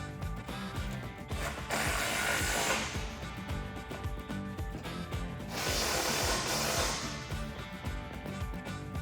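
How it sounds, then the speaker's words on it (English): A ratchet wrench tightens mounting bolts on a Barricade Classic steel rear bumper for a Jeep TJ or YJ, rapid clicking in two longer bursts separated by quieter steady work sounds, close and clear. "Once all the hardware is started by hand, you can tighten it down."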